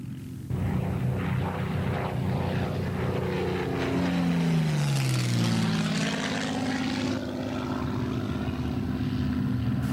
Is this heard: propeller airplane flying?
yes